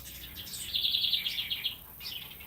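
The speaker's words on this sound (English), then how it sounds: "The birds are just all around me because when they hear me outside, they sing." Birds sing outdoors nearby, with bright, rapid trilled chirps and repeated high warbling phrases rising over a quiet background, no talking heard.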